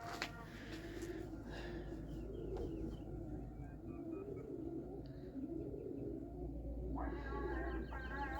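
Pigeons coo in the evening, a series of low, soft rolling coos repeating through the stretch, with scattered chirps and a voice speaking at the start and end.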